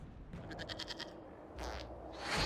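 Goat bleats in Dragon Age: Inquisition, a quick run of wavering cries in the first second over low game ambience, followed by a couple of broader noisy bursts that grow louder toward the end.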